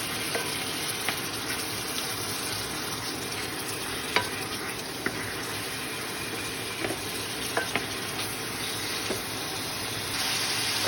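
Pork pieces sizzle and fry steadily in a pan as they brown, with occasional light clicks of stirring against the pan; no one speaks.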